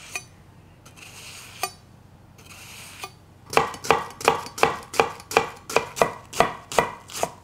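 Knife chopping a vegetable on a cutting board in a home kitchen, a few isolated cuts at first, then a quick run of about a dozen evenly spaced, sharp chops close to the listener.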